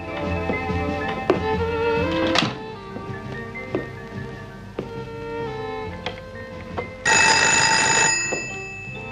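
A telephone rings in an office, its ringing tones sounding over a background of film music and scattered knocks, with a louder bright burst of sound near the end.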